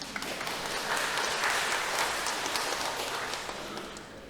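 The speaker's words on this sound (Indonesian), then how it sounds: "tepuk tangan tak?" Congregation at a Catholic parish Sunday Mass claps together, a steady, moderately loud patter of many hands that swells slightly in the middle and eases off toward the end.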